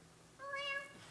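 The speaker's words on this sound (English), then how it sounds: "Oh, the ship's cat!" A ship's cat in a stage play lets out a single faint, rising meow that is brief and harmonic, heard against the quiet of a theatre.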